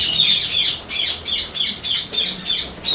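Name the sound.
lovebirds squawking, hungry and noisy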